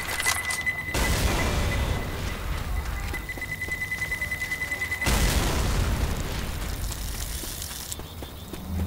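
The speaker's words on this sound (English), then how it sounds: "Pipe bomb out." A pipe bomb detonates in a first-person shooter match, two heavy booming blasts several seconds apart, each a broad loud burst that rolls off into rumbling debris and a lingering ringing tone.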